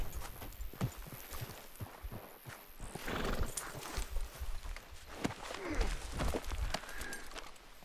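Horse hooves clip-clop in a quick rhythm in Red Dead Redemption 2, with a horse neighing and snorting nearby over a busy, moving background.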